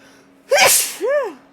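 One quick sneeze from a person, heard alone and fairly quiet, with a short breathy burst followed by a brief voiced tail.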